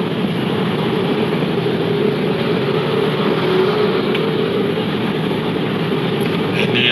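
A train rumbles at Dukuh Atas station, a loud continuous roar and rattle that holds steady throughout without any break.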